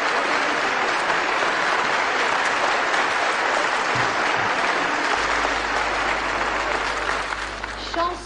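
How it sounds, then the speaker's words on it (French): Dense audience applause at the 1959 Eurovision Grand Prix, a continuous, evenly sustained roar of clapping from a large crowd, easing off slightly at the very end. "vous avez raison d'applaudir"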